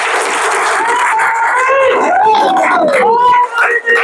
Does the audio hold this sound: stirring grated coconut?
no